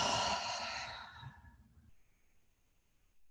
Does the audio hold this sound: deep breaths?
yes